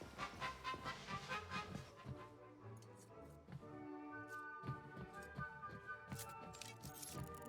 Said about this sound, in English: Welcome aboard Vortex, the unique high-speed train and the crown jewel of Facility 3826 transportation system.